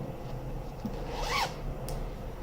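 A zipper on a large sewn fabric bag runs in one quick, clear pull, a short rising rasp close to the microphone over a steady low room hum, with no talking.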